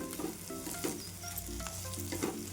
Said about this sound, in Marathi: आता आलू टाकून घेऊत आपण छान यायला आहे ना आपण छान मिक्स करून घेऊ